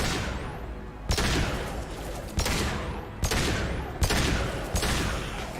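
Gunfire in the video game Mass Effect 2: five loud, heavy shots spaced about a second apart, each with a long decaying tail over a steady combat background.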